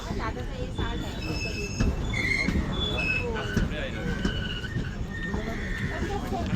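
A passenger train rumbles loudly and steadily, with faint high squeals as it slows to a stop at Dadar station, Mumbai, while people talk nearby.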